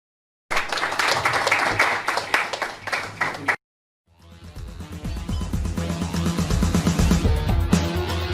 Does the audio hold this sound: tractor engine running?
no